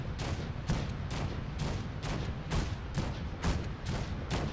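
Gunfire in a Fallout mod game: a rapid, regular string of about ten loud, sharp shots, close and hard-hitting, with almost no talk.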